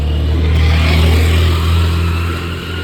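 A scooter engine revs close by, a steady low drone that swells and holds through the whole stretch, then eases slightly at the end, with no talk over it.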